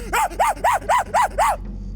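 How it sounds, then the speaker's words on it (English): Dogs bark in a quick, even run of six sharp, close barks, each rising and falling in pitch, before stopping abruptly into near silence. "the dogs bark at me as I halt by them"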